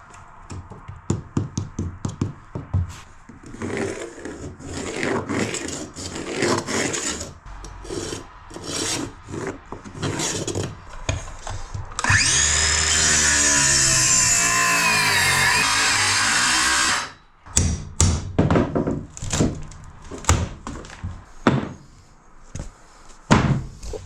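Power saw cuts a moist wood patch out of a bus wall, a loud steady whining buzz lasting about five seconds, framed by scraping, knocking and rustling handling noises before and after.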